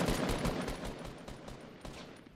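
Rapid bursts of gunfire from Fortnite Battle Royale during a duo Pop Up Cup match, a dozen or so sharp shots in quick, slightly uneven rhythm, loud and close with no talking.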